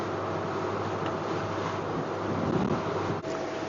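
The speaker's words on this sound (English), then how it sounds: "breeze coming through here" Steady wind rushing across open water in Mackenzie Bay, Whangārei Harbour, heard aboard a Leopard 45 catamaran, with a low rumble and a soft wash of waves throughout; no voices.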